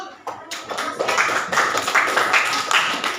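A group of students claps in a classroom, a dense patter of many hands that starts quickly and holds steady for a few seconds with no talk over it.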